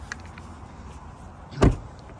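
A single solid thud of a 2024 Chevy Silverado High Country pickup door shutting close by, breaking a quiet, low background hum.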